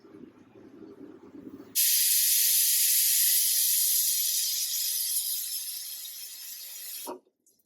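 A pressure cooker on the stove, cooking yogurt mutton curry, lets out one loud, steady hiss of steam that lasts about five seconds, then cuts off abruptly, with quiet kitchen rumble before it.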